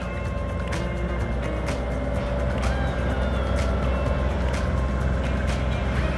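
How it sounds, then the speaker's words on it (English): A boat engine holds a steady, loud drone around 2,500 rpm while the boat sits at anchor, with a constant low rumble and faint intermittent clicks, and no talking. "Just slowly bringing the revs up to see what happens."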